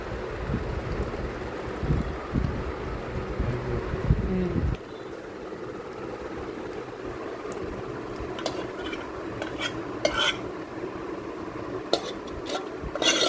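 A spoon scrapes and stirs a garlic and oil mixture in a pan, a steady rubbing sound for the first few seconds, followed by quieter clinks and sizzle-like hiss with occasional sharp taps.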